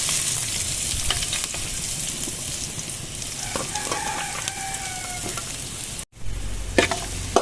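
Finely chopped onions sauté in a hot pan with a steady, close sizzle and occasional stirring scrapes, interrupted by a short gap before the frying resumes.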